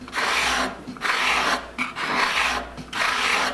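A card scraper is pushed skewed across a wooden board in four steady, rasping strokes with short pauses between them, close and moderately loud, with no talking.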